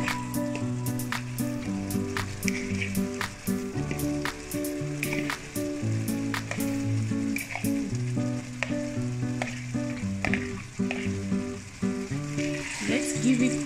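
Mixed vegetables with freshly added broccoli frying in a pan, a steady close sizzle running throughout with scattered sharp crackles and occasional stirring scrapes, no talking.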